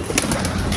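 A pigeon sits nearby and gives a brief, close coo against a steady background hiss.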